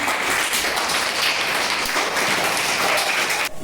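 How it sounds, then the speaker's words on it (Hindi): A crowd of young children clapping together, steady and dense, continuing without a break for a few seconds. "तालियां बजाएंगे।"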